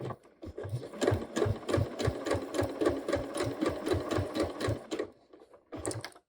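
A sewing machine stitches ribbing onto a top in short runs, its rapid needle chatter starting and stopping with brief pauses between bursts, close and fairly quiet.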